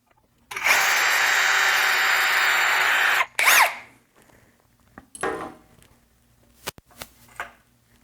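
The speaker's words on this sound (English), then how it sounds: "But now we have to actually drill a through hole." A power drill whirs steadily for about three seconds while drilling a through hole, stops, then gives a brief second burst followed by scattered handling clatter and clicks.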